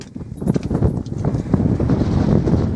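Strong wind buffeting a camera microphone on the open top of the Cheviot hills, a loud low rumbling roar with gusty surges throughout.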